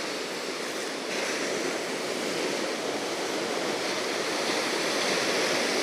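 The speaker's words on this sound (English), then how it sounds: "Do you like listening to the waves?" Ocean waves wash onto a beach at Sosua's Alicia Beach, a steady broadband roar of surf that fills the whole stretch without clear breaks, moderately loud with no voices.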